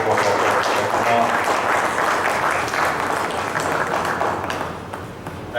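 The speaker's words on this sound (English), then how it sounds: "A big round of applause" A hall audience at a programme in Rajgir applauds, with continuous full-room clapping that stays strong before thinning and fading slightly toward the end.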